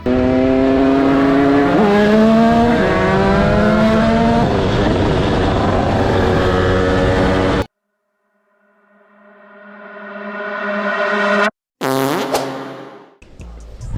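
An 88cc motorcycle engine screams at full throttle with a loud, buzzing two-stroke tone that climbs in pitch through several shifts, cuts out abruptly, then revs back up in a rising whine, close and alone.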